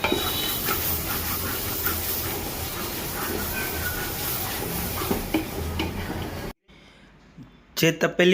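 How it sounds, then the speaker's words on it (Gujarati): Gravy for Punjabi chole chana being stirred in a cooking pot, a steady scraping and sizzling that runs continuously, then drops away briefly before a few louder clatters at the end. "ગ્રેવી પાકતી હોય ત્યારે આવી રીતે હલાવતું રહેવાનું"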